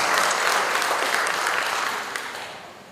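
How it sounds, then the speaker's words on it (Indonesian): An audience applauds at the installation ceremony of the Indonesian Cancer Foundation's board: dense, sustained clapping that starts loud and gradually fades toward the end. "Kita beri tepuk tangan dan selamat kepada teman-teman."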